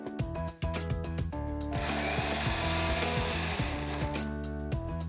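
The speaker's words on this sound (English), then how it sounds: "red chili powder, and some dried mixed herbs. And now grind all this as well." An electric grinder whirs loudly as it grinds chili powder, dried mixed herbs, ketchup and sun-dried tomatoes for a dip, a steady high motor whine that starts abruptly and runs continuously, close and alone.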